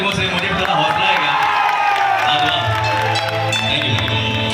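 An audience claps and cheers at a live Odia stage show by a Konark gananatya troupe, the steady dense applause blending with loud music throughout.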